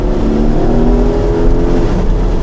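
A Porsche Targa 4 GTS engine drones loudly and steadily throughout, heard close from inside the car with a dense low rumble.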